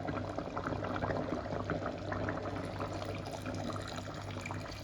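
A steady wash of coconut milk pouring and splashing into a pan of dried pea kurma continues throughout, with a faint low hum underneath and no talking.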